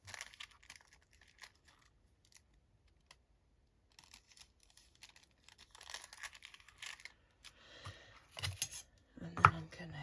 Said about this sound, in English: I'm going to snip across the top